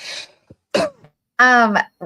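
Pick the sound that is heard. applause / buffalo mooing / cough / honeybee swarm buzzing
cough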